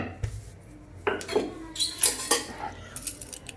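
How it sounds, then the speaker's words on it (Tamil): Rice flour dough for nachos is trimmed at the edges, with a series of sharp knife taps and clicks against a board, irregular and close, in a quiet kitchen. "நம்ம முதல்ல ஓரங்களை கட் பண்ணிடலாம்"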